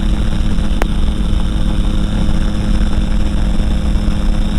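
The engine of a light aircraft drones steadily and loudly as it climbs just after takeoff, a constant close-up cabin roar with no pauses.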